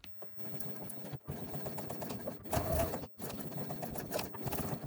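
A sewing machine stitches back and forth across a crossbody bag strap in several short runs, broken by brief stops as direction changes, heard fairly quietly and close.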